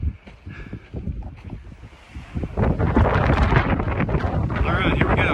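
Wind gusts roar against the microphone on a high, exposed desert hiking trail, starting softer and swelling into a steady loud rush for the last half, with no clear voice.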